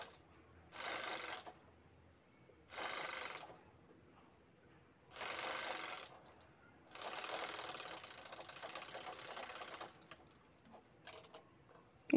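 A sewing machine stitches a full dress for a four-year-old girl in four distinct bursts of rapid, steady mechanical whirring, the last running longest, each separated by short quiet gaps.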